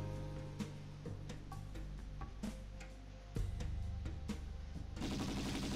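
Enemy gunfire aimed at the player in the video game XIII: a run of sharp, irregular shots and clicks, getting denser and louder toward the end, under background game sound with no speech.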